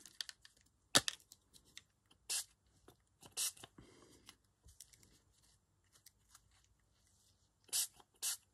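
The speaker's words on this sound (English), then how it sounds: "I'm just going to spray a little bit of" Short spritzes of distress oxide ink spray onto tissues come in a few separate bursts, close but fairly quiet, with soft handling and paper rustles in the gaps.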